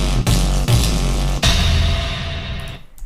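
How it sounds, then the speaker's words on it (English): Three heavy impact hits from Chamberlain's Alchemy sample pack land in quick succession, each a loud, booming hit with deep low end. The last one swells and rings out into a fading tail, with no voice. "Impact sounds."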